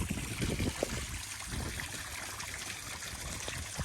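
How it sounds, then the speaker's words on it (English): Creek water trickles over a small pond waterfall, a steady, continuous wash of splashing and bubbling close by with no break and no voices. "yeah, the waterfall looks good"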